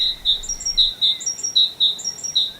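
A small songbird repeats a bright, high titu titu call in quick two-note phrases, several clear bursts spaced evenly, close and loud over a quiet background.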